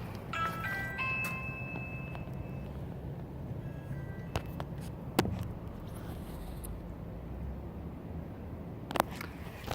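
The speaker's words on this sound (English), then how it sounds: "I'm gonna reach across and ring the doorbell." A doorbell chime rings indoors with a few brief, faint tones near the start, then gives way to quiet room ambience with scattered small clicks.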